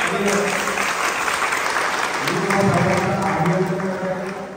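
Loud, sustained applause from an audience at a village public meeting, continuous clapping throughout with the crowd's voices faintly mixed in.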